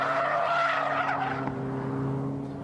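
Tires of a Ford sports car with 25 extra bhp, flared arches and lowered stance skid loudly and continuously, a sustained squeal layered over steady engine drone, no talking.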